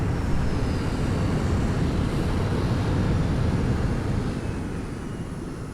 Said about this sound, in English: Alright, and our ship is landing.